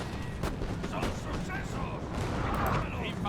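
Musket volleys in the strategy game Napoleon Total War, a dense rolling crackle of massed gunfire that keeps going with battlefield din underneath and no clear pauses.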